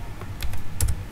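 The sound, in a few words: typing on a computer keyboard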